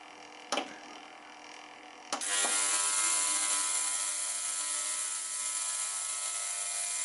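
An ultrasonic vinyl record cleaner running, clicking twice before settling into a steady, bright, high-pitched whine and hum that holds evenly throughout, with no talking.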